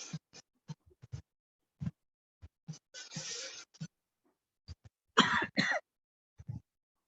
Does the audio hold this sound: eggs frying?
no